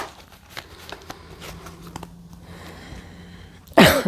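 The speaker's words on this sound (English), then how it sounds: "Sorry, still coughing," A person coughs once near the end, a short loud harsh burst following a few seconds of quiet, sparse room sounds.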